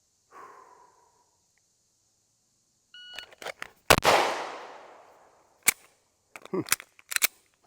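Pistol gunshots fired during a holster draw drill, one sharp loud report followed by a long decaying echo, then several quicker cracking shots and a few faint beeps from a timer, no talk.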